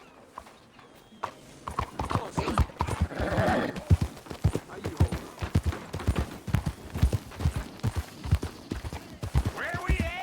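Horse hooves clip-clopping in Red Dead Redemption 2, a steady rhythmic trot of close, loud hoofbeats with a brief whinny early on.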